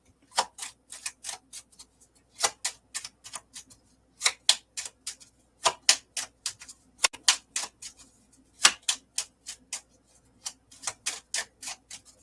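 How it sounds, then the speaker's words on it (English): Rapid bursts of card riffling and snapping, a card shuffle repeated in quick clusters, close and crisp with no talking. "I'm shuffling some cards in case anyone wonders what that noise is"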